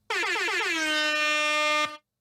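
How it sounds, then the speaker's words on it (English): One long, loud blast of an air horn, steady and brassy for nearly two seconds before it stops. "Here you go. Have air horns."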